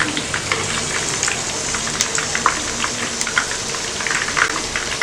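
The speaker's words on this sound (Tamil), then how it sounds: "திருப்பி போட்டு நல்லா வந்து ஃப்ரை பண்ணிடுங்க." Chicken lollipops made from chicken wings frying in hot oil, a dense crackling bubble with scattered sharp pops throughout, close and steady, no voices.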